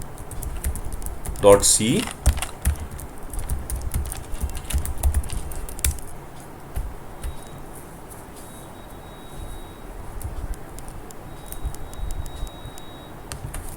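Computer keyboard typing of a gcc compile command for a C bubble sort program, a quick burst of loud clacky keystrokes early on, then sparser, softer taps with a faint electronic tone, with brief speech over the keys.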